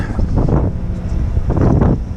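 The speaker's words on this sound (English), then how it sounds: "Might be a little windy up there." Gusty wind at an oilfield tank site buffets the microphone in two strong surges, a low rumbling roar that swells, eases briefly, then rises again.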